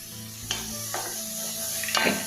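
Shallots sautéing in a pan over medium flame while being stirred, with a continuous sizzle broken by several distinct scraping and clinking strokes of the utensil against the pan.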